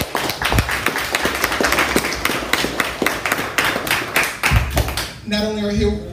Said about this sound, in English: Can we give a round of applause for the venue?